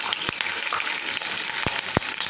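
Green chillies dropped into hot oil with fennel seeds and curry leaves, a steady close sizzle and crackle with a few sharp pops spattering throughout, no voices.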